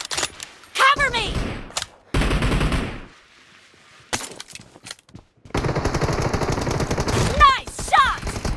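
Bursts of automatic gunfire from PUBG Mobile team deathmatch, loud rattling volleys broken by short pauses, with clipped voices calling out between and over the shots.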